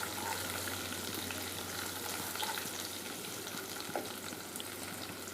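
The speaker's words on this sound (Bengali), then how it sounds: "তারপর আমি প্রথমে রসুন কুচিটা দিব, একটু ভেজে নিব" Chopped garlic fries in a pan with a dense, even sizzle that stays close and steady throughout, broken by a faint tap or two, no talking.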